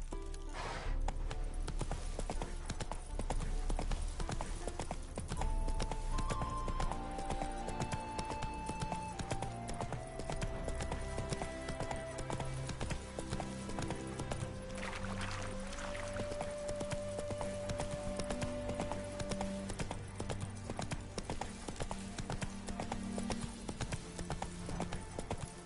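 Roach, Geralt's horse in The Witcher 3: Wild Hunt, gallops with steady clip-clop hoofbeats running throughout, set against a continuous music score, with no voices.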